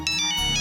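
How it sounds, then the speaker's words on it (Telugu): A mobile phone ringtone plays as a loud, close, bright melodic burst of tones for under a second, with no speech over it. "అది ఫోన్ చేస్తున్నట్టుంది."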